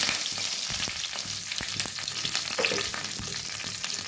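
Curry leaves and mustard seeds fry in hot oil for an egg gravy, giving a dense, continuous sizzle. Sharp crackles and pops run through it, close and loud.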